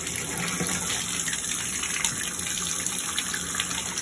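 A tap runs steadily for a dog's cool-down bath, water gushing and splashing in a continuous, close stream with no voices over it.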